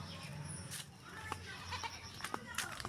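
A goat grazes on grass in an open green field, giving a few faint, short bleats over a steady outdoor background, with a voice talking quietly nearby.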